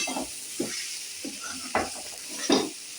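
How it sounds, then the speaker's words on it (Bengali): Onion and potato frying in a pan, heard as a soft sizzle broken by a few brief scraping stirs, close and fairly quiet. "পেঁয়াজ একটু আলু সব দিয়ে একটা ভাজা ভাজা করলাম"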